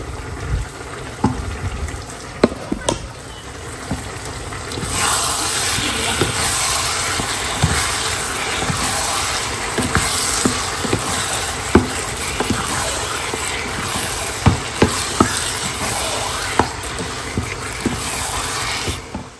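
Taro leaves dropped into a pan where shrimp and onions are frying with spices, giving a loud, steady hiss and sizzle. Scattered clicks and clatters come through it, and nobody speaks.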